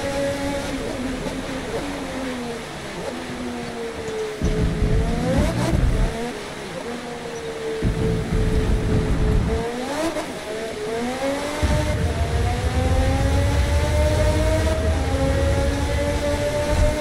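A McLaren MP4/Senna engine roars through a rainy race at Suzuka in Forza Motorsport, holding a steady loud drone with rising pitch sweeps as it accelerates and shifts, continuous throughout.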